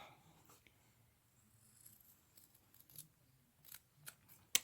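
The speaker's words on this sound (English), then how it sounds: "I'm just going to trim a little bit more, just so that even here on the sides" Scissors snip at the fabric corners of a sewn pillow, making several faint, sparse cuts that grow a little more frequent toward the end, close by in a quiet room.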